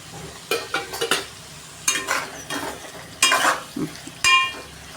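A spoon stirs tomatoes and okra frying in a pan for Andhra-style sambar, giving a soft sizzle broken by several short scraping, clinking strokes against the metal, heard up close without talk.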